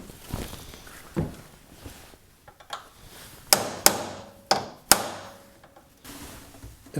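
Hammer blows on a chisel while taking apart a Bronco dashboard, several sharp metallic strikes in a loose, uneven series up close, with quieter handling noises in between.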